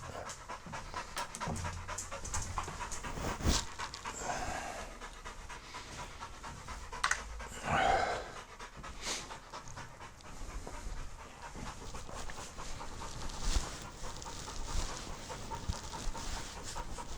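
A dog pants steadily and rapidly close by, a continuous breathy rhythm running throughout with faint handling noises in the background.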